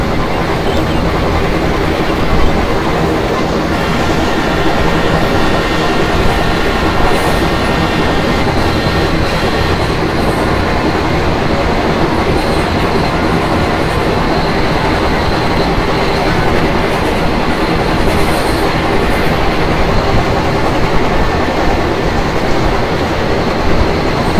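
Simulated Indian Railways Jhelum Express locomotive in Open Rails, a loud, continuous rumbling train roar with steady rail clatter and faint high squeals, unbroken throughout and heard alone without talking.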